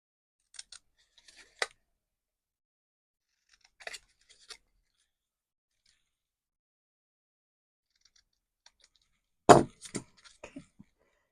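Scissors snip through a paper card tag during card making, a few short, crisp cuts in scattered clusters with near silence between them, close and fairly quiet.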